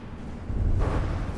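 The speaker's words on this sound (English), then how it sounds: "The blimp delivering its tiny little torpedo." A small torpedo dropped by a blimp explodes against an armoured battleship in a naval combat game, a rumbling low blast that swells after a brief lull and sustains loudly.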